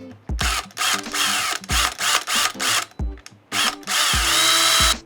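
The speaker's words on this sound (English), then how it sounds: "So we'll drill in the hole right now." A power drill drilling a pilot hole whirs in several short bursts, revving up and stopping repeatedly, close and loud, with brief pauses between runs.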